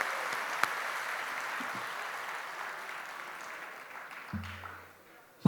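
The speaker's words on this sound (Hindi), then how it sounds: "इस बात पर भी एक बार जोरदार तालियां बजनी चाहिए।" Audience applause at a kavi sammelan poetry recital in Gorakhpur: steady dense clapping from a crowd, moderately distant, fading slightly toward the end, with a brief thump near the close.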